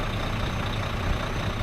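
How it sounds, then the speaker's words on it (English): A semi truck tractor engine labors in forward gear as it pulls against a coupled trailer during a fifth-wheel lock test, giving a steady, loud, low rumble that holds without a break. "I'll put it in the forward gear and try to pull the trailer."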